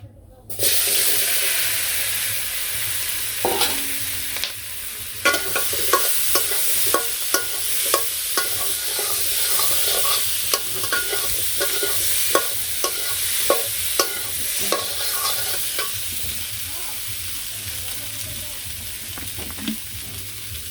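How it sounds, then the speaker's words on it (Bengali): Potatoes and vegetables fry in oil in a Bangladeshi village kitchen, giving a steady hiss of sizzling broken by regular scraping and clinking as the pan is stirred. "আর একটু তেল দিয়ে দিলাম আলুগুলো ভালো করে ভাজবো"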